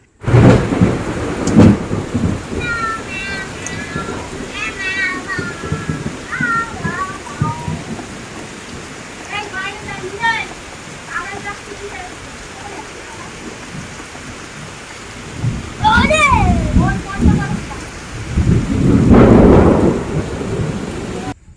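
Heavy rain with rumbling thunder in a village thunderstorm: a steady loud downpour with swells of thunder near the start and end, bird-like chirps in between, and a brief spoken phrase.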